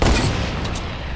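A loud, dense barrage of close gunfire in a shooter game, booming shots blending into a continuous rumbling roar for about a second.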